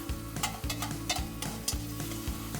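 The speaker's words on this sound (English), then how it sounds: "I'm going to kick up my fire again to about a medium heat and just finish these onions off." Onions frying over medium heat on a wood fire for bear barbacoa, a steady close sizzle with regular scraping stirs and a low repeating rumble beneath, no talk.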